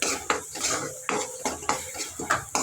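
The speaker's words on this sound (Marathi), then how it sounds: "तेलामध्ये असं आपण बनवलेली पेस्ट टाकून घ्यायची आणि ती परतवून घ्यायची थोडा वेळ" Thick spice paste stirred in hot oil in a pan for sev bhaji, a spoon scraping and clinking against the metal in uneven strokes, close and fairly loud with no voices.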